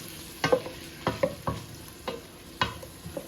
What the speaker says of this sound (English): give our onions and our bacon and garlic a stir